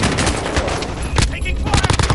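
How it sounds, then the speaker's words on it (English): Dense video game gunfire in a military extraction scenario, loud and close, rapid overlapping shots with a short lull partway through. "Taking fire."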